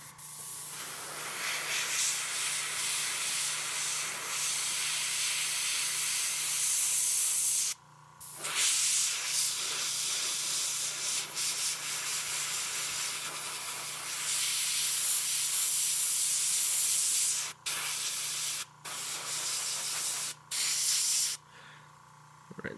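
An airbrush sprays orange paint onto a Hive Tyrant miniature in a long, steady, close hiss that breaks off briefly several times before starting again.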